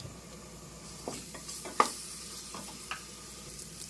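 Ginger garlic paste frying in a pan while being stirred, giving a faint steady sizzle broken by a few soft scraping strokes and one sharper utensil knock.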